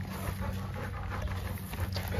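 A dog panting quickly and softly close to the microphone, a rapid rhythmic breathing over faint background noise.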